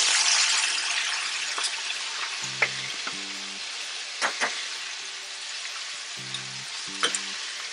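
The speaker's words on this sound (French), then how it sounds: "On va laisser frire plus longtemps." Chicken wings frying in hot oil on high heat, a steady bright sizzle throughout with occasional louder pops and crackles, close by, no talking.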